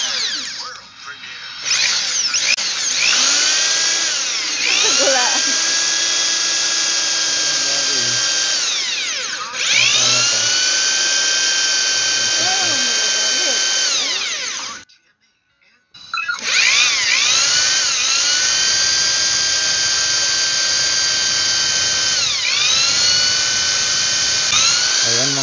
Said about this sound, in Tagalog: Nabutasan na po ng barena ang ating bracket.